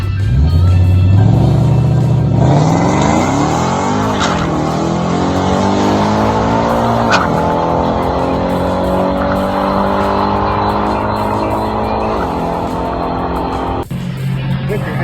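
Steve's car launches down the drag strip on a timed pass, its engine climbing through rising revs with clear gear shifts, loud and close from inside the car, then cutting back at the finish.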